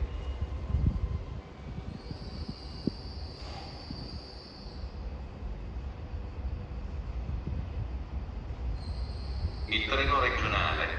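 A Trenitalia regional train rumbles steadily nearby at Venezia Mestre station with a high sustained wheel squeal rising and fading, while Italian station announcements play over the noise.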